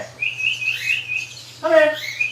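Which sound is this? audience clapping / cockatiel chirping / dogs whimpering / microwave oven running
cockatiel chirping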